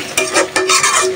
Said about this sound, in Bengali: মশলাটা ভালোভাবে একদম ভাজা ভাজা করে নেব চাপার পুলির জন্য